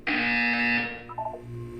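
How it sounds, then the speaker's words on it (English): The harsh electronic test chamber buzzer from the video game Portal 2 sounds once, loud and steady for nearly a second, then cuts out into a few faint trailing beeps. "You will hear a buzzer."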